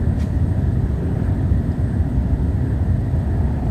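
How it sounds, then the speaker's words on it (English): A Sepecat Jaguar jet in Flight Simulator X gives a loud, steady low roar that fills the whole stretch without breaks, close and rumbling rather than a clear pass. "That aircraft was getting nice and close."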